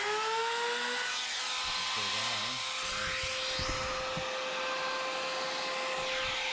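Electric router trimmer with a rounding bit, used in building a homemade pool table with an iron frame, running at a steady high whine that stays loud throughout while someone speaks briefly over it.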